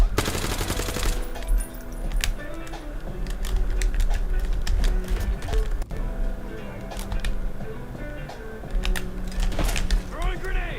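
Gunfire in the video game Call of Duty Black Ops 7 Zombies crackles in rapid bursts and sharp single shots, mixed with game music and effects.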